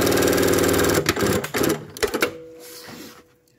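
A PFAFF 2545 ECO Powerline sewing machine stitches in a fast, even mechanical run for about a second, then stops and starts in short bursts before going quiet.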